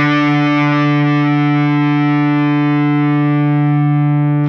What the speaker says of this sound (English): here's the sound of an octave if you just played it by itself